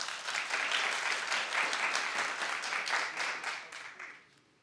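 A television talk show studio audience gives a moderately quiet round of dense applause that holds steady, then tapers off and fades out near the end.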